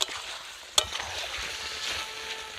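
Chicken with yogurt being stirred in a sautéing pan, a sharp spoon clank near the start followed by a soft steady sizzle and scraping, close by with no talk.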